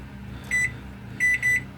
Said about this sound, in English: Microwave is on.